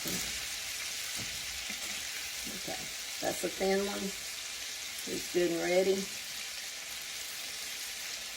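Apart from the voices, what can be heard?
deep frying chicken strips in oil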